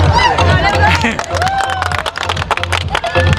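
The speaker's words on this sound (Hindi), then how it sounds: "जोरदार तालियां हार्दिक अभिनंदन का" Crowd at a kabaddi tournament clapping for the second-place winner, rhythmic hand claps and cheering close by, mixed with lively talking and babble throughout.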